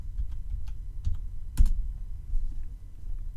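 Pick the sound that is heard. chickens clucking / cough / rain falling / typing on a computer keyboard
typing on a computer keyboard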